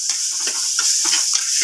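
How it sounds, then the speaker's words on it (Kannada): Chopped tomato mixture frying in a pan while being stirred, a steady close sizzle with soft scraping strokes throughout. "ಒಂದು 2 ನಿಮಿಷ ಹೀಗೆ ಫ್ರೈ ಮಾಡಬೇಕು."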